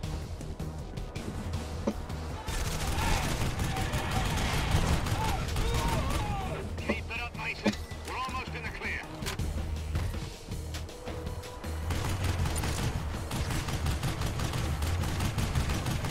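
Weapons fire steadily in Red Faction Guerrilla, with dense, loud, overlapping shots and bursts running for the whole stretch, and a person talking over the din.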